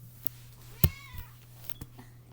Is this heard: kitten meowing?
yes